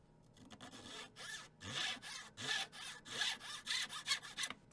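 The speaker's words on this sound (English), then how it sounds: "And of course we're going to sand it. There's always sanding." Hand sanding a tiny hammer at a workbench, a steady series of close rasping strokes that rub back and forth in an uneven rhythm, with no talk over them.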